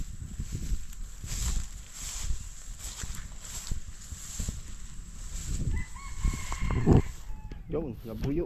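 Red junglefowl (labuyo) crowing near rice paddies in the Philippines: a short crow rises near the end over outdoor background noise, footsteps and a person speaking.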